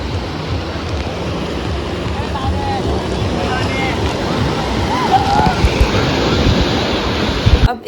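Ocean surf washes steadily onto a Goa beach, a constant broadband roar with rolling swells, wind buffeting the microphone, and a louder surge near the end.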